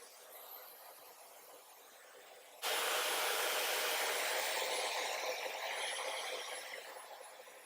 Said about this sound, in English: I'm using my diffuser. Can be low pressure and low heat.